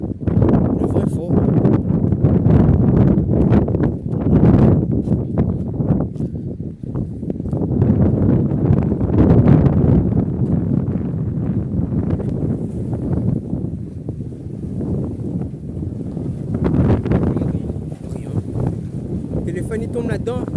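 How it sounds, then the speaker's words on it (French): Strong wind roars and buffets the microphone steadily throughout at a fishing spot on the shore, with people talking under the constant rushing noise. "Le vent est fort."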